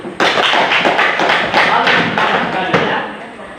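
A classroom of students claps hands together, a dense, loud burst of overlapping claps that starts abruptly and carries on for a few seconds before tapering off, with no talking.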